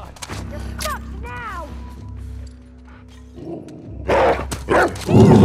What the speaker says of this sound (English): Another dog, really.